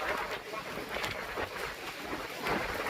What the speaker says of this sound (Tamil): காற்றும் மழையும் சேர்ந்து புயல் காற்று மாதிரி அடிச்சு வீசுது.